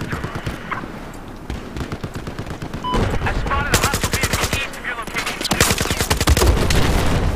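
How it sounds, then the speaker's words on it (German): Bursts of automatic gunfire in the video game Battlefield 4, Silk Road conquest map, crackle in rapid rhythmic volleys that grow louder and denser, with short pauses between strings of shots and a player voice faintly in the mix. "Jemand schießt auf mich."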